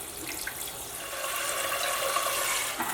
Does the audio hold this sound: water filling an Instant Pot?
yes